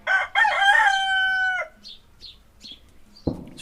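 A trapped rooster crows once, a loud, close cock-a-doodle-doo lasting over a second, followed by a few faint chirps and a sharp knock near the end.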